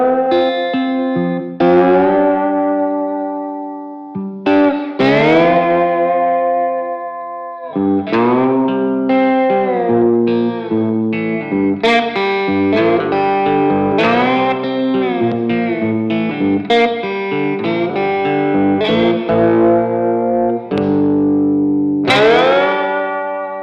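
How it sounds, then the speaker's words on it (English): Twanged strings of a cigar box guitar run through effects, a series of loud plucked notes and strums with distortion and chorus-like shimmer, ringing and overlapping continuously without pauses. "let's hit record and record some string twanging"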